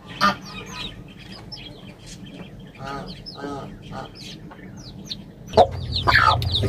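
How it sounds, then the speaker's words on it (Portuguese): A fighting-breed game hen with chicks, giving repeated close clucks and soft calls with faint peeping, and a louder squawk near the end. "Aqui eu tenho mais uma combatente com alguns pintinhos."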